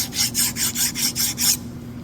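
A Mazda Miata axle is worked in a rapid series of about seven rasping, scraping strokes, evenly spaced and close, then the rhythm stops.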